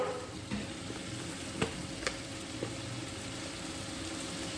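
Turmeric and cumin powder frying in a pan for a vegetarian cauliflower curry, giving a steady low sizzle with a few sharp stirring clicks, no voices.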